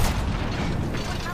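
Frag grenade blast in a Halo-style shooter match, a dense low boom and rumble filling the whole moment amid ongoing game noise and chatter.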